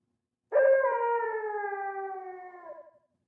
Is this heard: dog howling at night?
yes